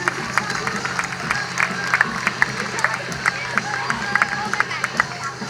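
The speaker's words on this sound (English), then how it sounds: "Big round of applause for Ann." Crowd applause at an outdoor water-ski team show, many people clapping in a loose patter at moderate distance, with sharper individual claps standing out and a low hum of background noise underneath.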